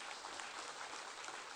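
Audience at an India–Africa business conclave applauding the Minister, a steady, even wash of many hands clapping at moderate distance, heard alone throughout.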